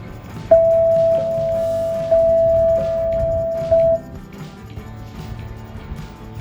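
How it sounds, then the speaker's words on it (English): Sydney Metro train doors closing: a steady electronic warning tone sounds in three sustained chimes, then the noise settles into low station ambience. "Train doors closing."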